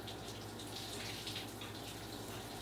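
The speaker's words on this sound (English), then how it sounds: "This is what you think the direct down rain shower head is going to be like." Water pours steadily from a direct-down rain shower head, a dense, even hiss of spray falling without pause, close and fairly loud.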